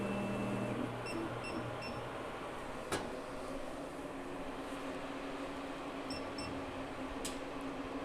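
An 80W CO2 laser engraver switched on and running hums low and steady at a quiet level. A single sharp click sounds partway through, and no one speaks.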